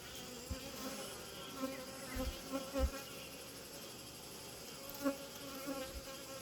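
Worker honeybees buzz faintly at a beehive, a low steady hum with a few soft louder passes close by.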